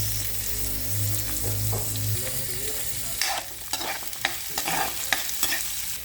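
Onion fries in oil in a pan for a Filipino eggplant dish, a close steady sizzle that turns busier partway through as stirring strokes scrape and clatter irregularly against the pan.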